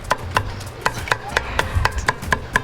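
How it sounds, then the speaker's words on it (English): A knife chops food in a Mexican-style kitchen on a wooden cutting board, with about a dozen crisp, evenly spaced knocks in a steady rhythm, heard close and alone. "They love their cutting boards, and they love chopping."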